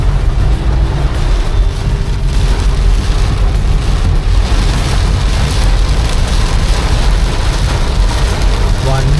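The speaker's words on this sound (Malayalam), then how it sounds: "അത്രയ്ക്ക് ഭയങ്കര മഴ, പ്രളയം പോലത്തെ മഴ" Heavy, flood-like downpour in Trivandrum, a loud, steady dense roar of rain with low rumbling, likely traffic creeping through it, continuous for the whole stretch.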